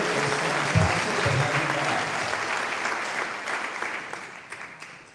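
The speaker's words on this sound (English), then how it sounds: "would you all please stand up and get a round of applause" A standing audience at a National Teacher Hall of Fame induction ceremony applauds steadily, a dense wash of clapping that stays loud before gradually tapering off near the end.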